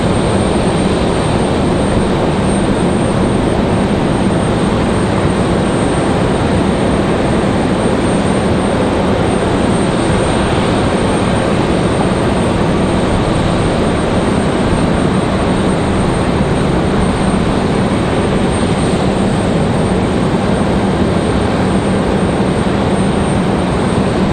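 A Republic Airways airliner, flight 4618 from LaGuardia, roars past at an airport, a loud, steady broadband engine rush sustained without a break, with no voices.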